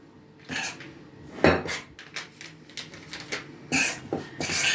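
A utensil stirs flour mixed with baking powder in a bowl, giving irregular scraping and clinking strokes against the bowl, fairly close and with no talking.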